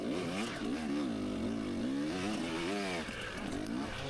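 Dirt bike engine revving hard on a steep hill climb during a Tough Like RORR qualifier, a buzzing motor that rises and falls in repeated rapid surges, close and fairly loud with no speech.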